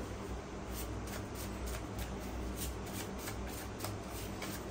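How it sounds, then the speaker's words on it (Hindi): Tarot cards are shuffled close by in a quiet room, a steady run of soft riffling flicks lasting several seconds. "I need to shuffle again"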